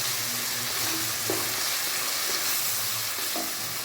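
Chicken fried rice stir-frying in a pan with chili sauce, soy sauce and capsicum, a steady close sizzle with faint scraping stirs, no talk.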